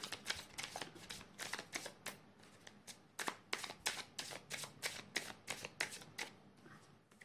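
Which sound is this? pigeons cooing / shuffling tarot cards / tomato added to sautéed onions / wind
shuffling tarot cards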